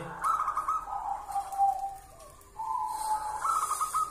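A zebra dove coos repeatedly in soft, rolling phrases, fairly close and clear, with faint high chirps from other birds in the background.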